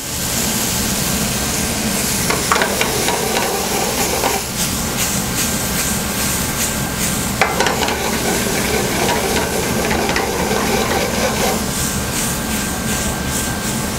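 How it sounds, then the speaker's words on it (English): Vegetables, including carrots and Irish potatoes, sautéing in a pan for Jamaican food, a loud steady hiss and sizzle with occasional spatula scrapes and knocks, close up and continuous. "Make sure you get everything sauteed properly to enhance the flavor."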